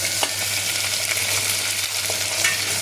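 Chopped onions hit hot oil in a pan for a ridge gourd bajji, a loud close sizzle with steady stirring and occasional scrapes and taps of the spoon.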